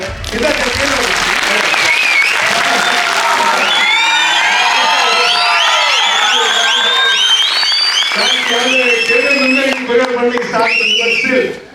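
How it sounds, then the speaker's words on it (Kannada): A large crowd at a Tulu film premiere in Mangalore breaks into sustained loud applause with whoops, whistles and shouted cheers, the roar steady and dense throughout before tapering at the very end. "ಚಪ್ಪಾಳೆ ಬರಲಿ ವಿಸಿಲ್ ಬರಲಿ"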